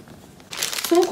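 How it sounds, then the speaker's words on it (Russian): A handbag zipper is pulled open in one short, close, rasping stroke lasting about half a second, after a brief quiet moment. "Молния."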